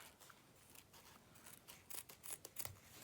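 Scissors snipping thick ribbon into a point for circular weaving, a few faint, sharp cuts clustered near the end over quiet room tone.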